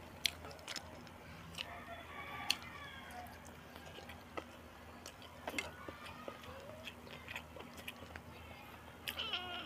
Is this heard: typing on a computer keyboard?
no